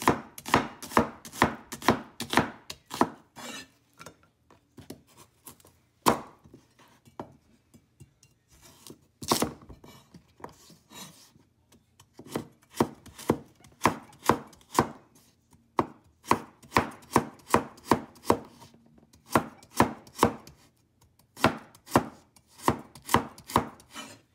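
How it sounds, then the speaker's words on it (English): A knife slicing an onion on a cutting board, rapid runs of crisp, evenly spaced chops separated by brief pauses, close and distinct with no talking. "And then I'm going to slice the onion."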